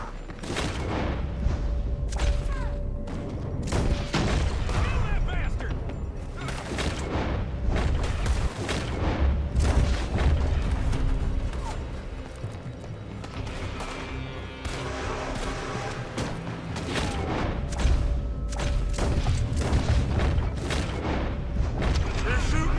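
Gunfire in a Red Dead Redemption 2 shootout sounds as dense volleys of shots and heavy booms, cracking repeatedly and loudly for a long stretch, with voices talking over the fighting.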